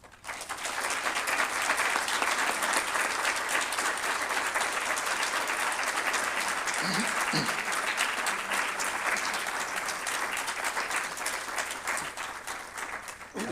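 Audience at a haiku, Zen and shakuhachi event claps for the performers in a long, even, sustained round of applause, dense and steady for over ten seconds before tapering slightly.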